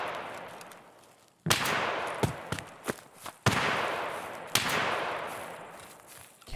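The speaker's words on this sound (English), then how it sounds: "I think he is shooting at me." Gunfire in Escape from Tarkov on the Shoreline map rings out in sharp, separate cracks, first after a quiet stretch and then at irregular intervals, each trailing off in a long echoing decay at moderate distance.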